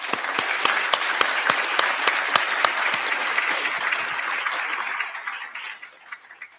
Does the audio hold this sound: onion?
no